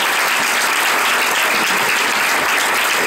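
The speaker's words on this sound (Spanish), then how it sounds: "Demos un aplauso al Señor." A church congregation claps loudly and continuously, a dense, even wash of applause with no pauses from start to finish.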